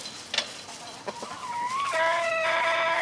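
Chickens and roosters cluck in short bursts near a DIY automatic chicken feeder, then a rooster crows loudly and close by, its call sustained through the final second.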